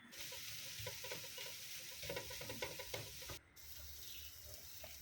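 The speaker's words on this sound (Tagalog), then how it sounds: "maglagay tayo ng corned beef. Okay, i-fry natin." Corned beef fries in a hot pan with a steady, quiet sizzle, punctuated by scraping and stirring sounds as the meat is moved around, with no voices.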